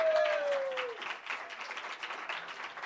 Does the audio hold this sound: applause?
yes